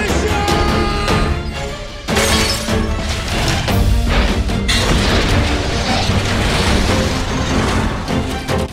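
Loud, sustained crashing booms and rumbling of a boat exploding, with debris breaking apart, dense and continuous, likely under a music score.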